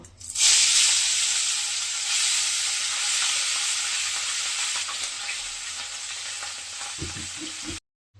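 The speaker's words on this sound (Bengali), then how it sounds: "একইভাবে বাকি মাছগুলো ভেজে নিব।" Mola fish frying in hot oil, a loud steady sizzle running unbroken for about seven seconds before cutting off abruptly, with a few soft knocks just before the end.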